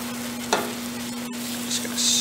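Caramel sauce of cooked sugar bubbling and hissing as cream is poured in off the heat and stirred, with a brief louder burst followed by a steady close fizz under a low electrical hum.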